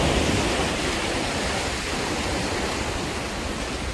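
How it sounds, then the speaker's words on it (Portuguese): Rough sea surging against a rocky shore under a south wind, a steady broadband wash of surf filling the whole stretch with no pauses, close and fairly loud. "O mar está um pouco agitado, vento sul."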